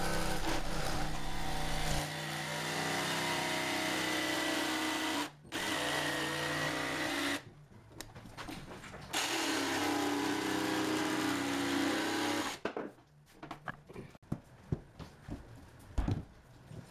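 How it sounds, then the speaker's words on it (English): A jigsaw cuts through LVP vinyl plank flooring with loud, continuous buzzing and rasping in long runs. It stops briefly between passes, and the final seconds break into scattered knocks and clatter. "This part is very easy cut with a jigsaw."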